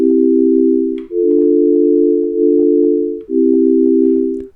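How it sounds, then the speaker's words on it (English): Steady pure electronic sine wave tones from a synthesizer held in sequence, a low smooth hum stepping to a new pitch every second or so, loud and clean with no voices. "So just some sine waves."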